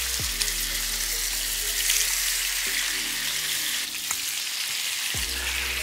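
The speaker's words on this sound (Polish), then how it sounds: "Mięso smażę teraz tak długo, aż każdy plaster idealnie się przyrumieni" Slices of pork neck fry in hot lard in a pan, giving a loud, steady sizzle throughout with a few brief clinks and stirring noises.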